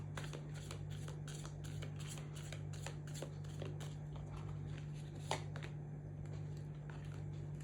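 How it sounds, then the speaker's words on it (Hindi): Tarot cards are shuffled in quick, crisp riffling bursts, close and fairly quiet, repeating steadily with a brief sharper snap near the end and no talking. "अच्छा, एक कार्ड और निकालते हैं।"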